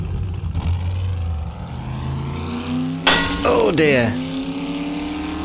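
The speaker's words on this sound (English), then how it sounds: "Listen to the engine burr." A 4x4 truck engine in the 7 Days To Die video game revs with a steady droning hum, then a sudden loud crashing burst partway through; someone speaks briefly over it.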